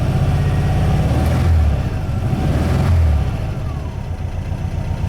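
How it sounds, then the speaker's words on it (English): A 1974 VW Super Beetle's air-cooled engine fires up and settles into a steady idle, a low continuous rumble close by with a couple of brief rises in pitch. "let me go ahead and start it up"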